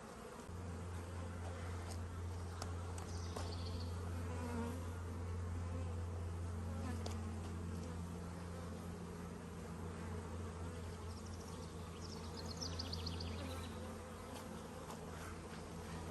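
Honeybees swarm over an open hive in a continuous, soft buzzing drone, with individual bees occasionally whining past nearby against the low, even hum of the colony.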